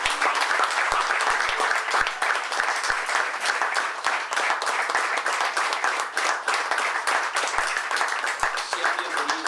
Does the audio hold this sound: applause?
yes